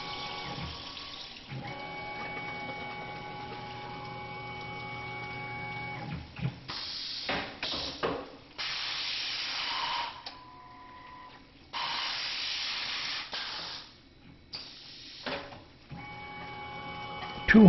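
A Tormach PCNC 1100 CNC mill reaming a hole with a 7/16 reamer, a steady tonal machine hum with whirring layers, interrupted by several bursts of hissing coolant or spray and clicks as the cycle moves along.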